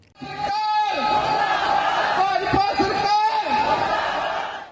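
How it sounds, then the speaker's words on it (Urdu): Sikh protesters at a rally in Paris chanting slogans, a crowd of voices rising together in loud, rhythmic repeated calls, close and continuous with a few sharp shouted accents. "مظاہرین مودی مرد آباد کے نعرے لگا رہے تھے۔"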